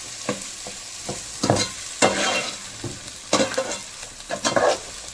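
Onions sauté in a pan for a Kerala-style botty curry, giving a soft sizzle punctuated by several irregular scraping stirs of a spoon, close and fairly quiet, with no talking.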